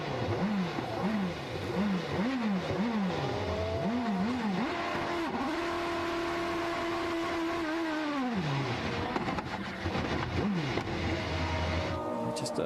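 A 2008 IndyCar engine roars up and down through rapid revs at Watkins Glen, then holds a long high steady note before dropping, with spinning-tire noise underneath, heard from onboard.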